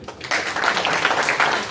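An audience at a waste management program claps together, a steady, close burst of applause sustained for under two seconds.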